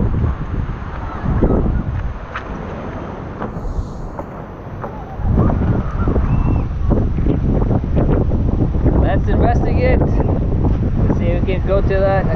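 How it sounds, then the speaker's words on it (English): Strong typhoon wind in a rural Philippine province roars steadily against the microphone throughout, rising sharply in force partway through, with people's voices heard intermittently under the gusts. "That was such a crazy wind."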